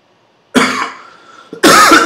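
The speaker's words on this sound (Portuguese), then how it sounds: "Eu tô com um pouco de tosse" Two loud, close coughs from a man with a slight cough, each a harsh burst, separated by about a second of quieter breath.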